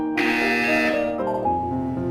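A harsh electronic buzzer in the video game Portal 2 sounds once, loud and close, its tone dropping in pitch partway through before fading out.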